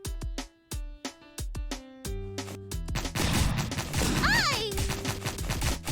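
Cannons firing in a PC video game: a rapid series of sharp booming shots, then denser overlapping blasts mixed with game music and effects, while a player exclaims briefly.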